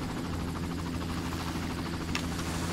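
Helicopter in the video game Far Cry, a steady low rotor and engine drone holding at even level throughout, moderately faint, with no talk.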